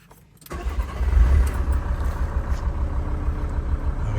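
A VW Transporter T4 diesel engine turns over after a short quiet pause, catches and settles into a steady, smooth low idle that stays loud and close for the rest of the moment, with no talking.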